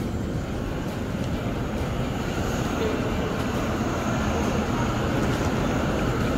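A Eurostar train at Amsterdam Central station gives off a steady, fairly loud low rumble and hum that carries on unbroken throughout, with no clear voices standing out.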